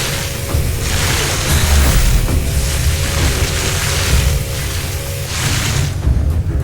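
Fireworks burst in Fallout 76 as a series of loud booming explosions, each a broad rushing blast, with one heavy detonation near the start, another in the middle and a last near the end, no talking.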